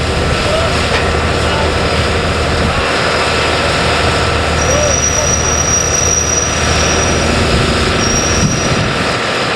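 A rail-laying train on slab track for a high-speed line starts to move, making a loud, continuous rumbling engine drone with faint high squeals, while outdoor noise fills the scene.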